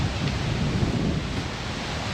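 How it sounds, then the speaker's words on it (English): Rain setting in with thunder, a dense, steady wash of rain noise and low rumbling that fills the whole stretch at an even, fairly loud level, with no voices. "it's coming in now, I can feel the rain arriving"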